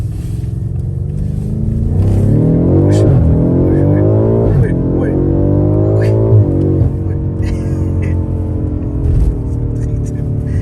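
A BMW Z3 sports car engine revs up and down in rising, falling sweeps, loud and close, then settles to a rumbling idle.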